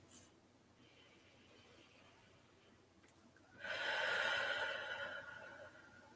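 A slow, deep breath drawn in and let out during a calm EFT tapping session, a soft, airy rush that swells for a couple of seconds after a quiet pause and a small tap.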